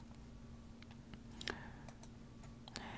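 Computer keyboard keys being tapped while setting up a project in a terminal, a few light scattered clicks with one sharper press, faint and close against a steady background hum.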